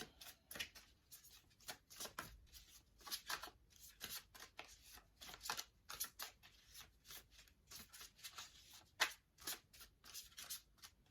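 Tarot cards are shuffled repeatedly at close range, a quiet series of crisp riffling bursts with brief pauses between them.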